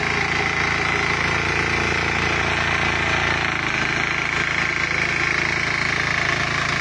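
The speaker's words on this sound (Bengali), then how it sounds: "আমরা এবার একটু ওই ডিজেলের কাজ দেখব।" An Indian mini power tiller's diesel engine runs steadily nearby, a loud continuous rattling drone with a dense mechanical clatter and no pauses.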